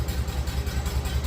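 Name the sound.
1951 Farmall Cub tractor engine idling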